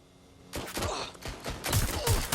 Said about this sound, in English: Wait, is that a gunshot?